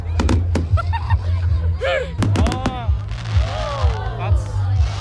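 Bonfire Night fireworks at the University of Stirling, several sharp cracks and booming bursts mixed with rising whistles and crackle, fairly close, while a crowd and voices carry on underneath.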